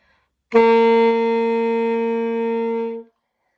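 A saxophone plays one clear, steady G, held for about two and a half seconds and then cut off cleanly, with nothing else around it.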